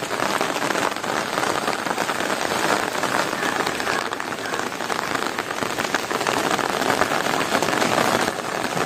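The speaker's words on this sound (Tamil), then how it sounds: "மழை இன்னைக்கு வந்து ரொம்ப லைட்டாக தான் தெரியுது." Light morning rain in Palani falls in a constant, even hiss, pattering on surfaces with no breaks or voices.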